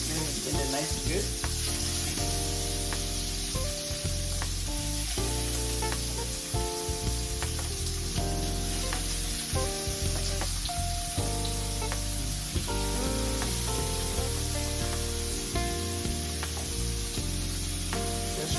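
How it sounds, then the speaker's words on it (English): Seasoned shrimp sizzle in a hot pan with a loud, continuous frying hiss and scattered crackles, steady for the whole stretch, over faint tonal background sound. "Get that nice little sizzlers."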